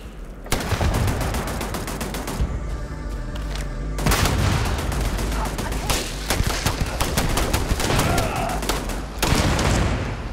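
Heavy turret gunfire mixed with booming explosions in the video game Starfield, a loud near-continuous barrage of rapid shots and blasts lasting the whole stretch with only brief lulls.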